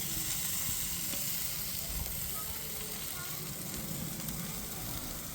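Steak sizzling on a grill, a steady, faint, crackling hiss that holds without a break throughout.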